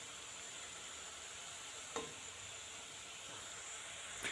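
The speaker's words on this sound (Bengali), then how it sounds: "একটু কড়াইটা এইভাবে একটু নাড়াচাড়া করে দিলেই মিষ্টিটা সুন্দরভাবে চারপাশে কিন্তু ভাজা হবে" Gulab jamun frying in oil in a kadai, a soft steady sizzle and hiss with a brief stir-like scrape near the middle and another toward the end.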